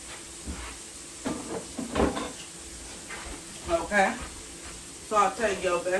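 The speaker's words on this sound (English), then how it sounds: "saute your vegetables real good" Vegetables sauté in a pan with garlic butter for homemade chili, a steady soft sizzle running throughout beneath a voice speaking over it.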